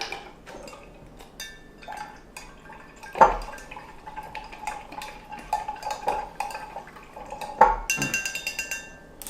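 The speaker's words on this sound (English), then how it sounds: "Stir it up." A spoon stirs hydroponic nutrient solution in a container for a Kratky setup, giving repeated clinks and scrapes against the vessel with two sharper knocks, fairly close and clear, with no talking.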